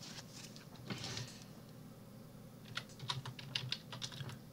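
Keys on a computer keyboard are tapped in a quiet room as a web search is typed, with a short burst of keystrokes, a pause, then a quicker run of soft, close clicks.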